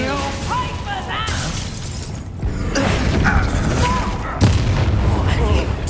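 An explosive Confringo spell goes off in Hogwarts Legacy, with loud blasts and crackling impacts layered over game music and voices.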